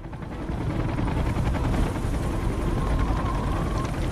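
Helicopter from the action film The Expendables, a loud steady rotor and engine drone with rapid chopping pulses, continuous and close throughout, no speech.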